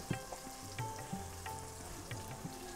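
Potato pieces fry in hot oil in a pan while bhurji polao is cooked, a steady close sizzle with occasional clinks and stirring knocks.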